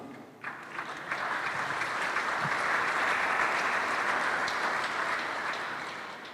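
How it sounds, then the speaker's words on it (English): A congregation at a state thanksgiving service breaks into applause, the clapping starting scattered, quickly swelling into a full, steady ovation, then easing slightly toward the end. "I thought somebody would clap."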